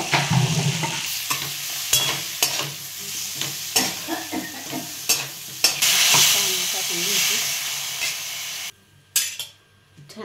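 Potato curry with garlic and coconut stirred in a pan: a continuous close sizzle broken by regular metallic scrapes and clinks of a spoon, with a louder steamy hiss near the end before the sound cuts out abruptly.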